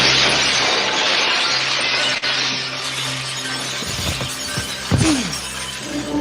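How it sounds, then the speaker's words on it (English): Sound effect of a man flying backwards through a large decorative glass wall in a Paris nightclub on a holosuite: a loud, sustained crash and shatter of glass with scattered tinkling shards, then a few sharper impacts near the end. "A man with an eye patch goes flying backwards through a large decorative wall of glass."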